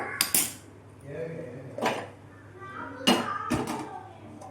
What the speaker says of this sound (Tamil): இப்போது ஸ்டவ் ஆன் பண்ணி குக்கர் வச்சுக்கலாம்